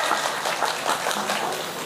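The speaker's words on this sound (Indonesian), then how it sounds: "Tepuk tangan dulu nggak masalah." An audience at a humorous Islamic sermon on marriage advice breaks into brief applause, a dense patter of many hands clapping at moderate volume for just under two seconds.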